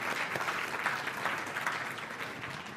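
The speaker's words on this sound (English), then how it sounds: "let's clap." A church congregation claps together, a steady, moderately loud patter of many hands that holds evenly and eases slightly toward the end.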